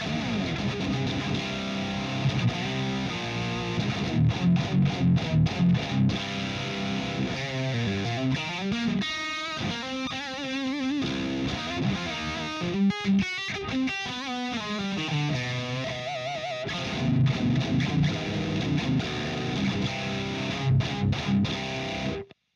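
A Balaguer Hyperion electric guitar fitted with humbuckers plays distorted riffs and sustained chords through an amp, loud and continuous with rhythmic chugging passages.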